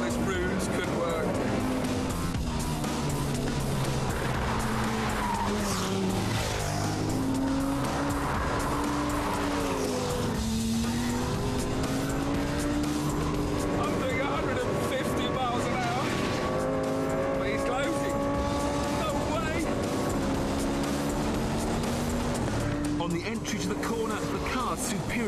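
Race cars at speed on a circuit, engines whining through shifting revving pitches with tire squeal, loud and continuous throughout, with someone speaking over the track noise.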